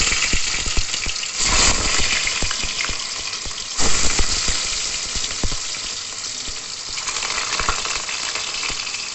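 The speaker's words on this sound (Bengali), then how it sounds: "এবার আমি ভেজে দিচ্ছি।" Pieces of chital fish frying in oil in a pan, a steady hissing sizzle with sharp pops and crackles and occasional clatter from handling, close and loud with no talking.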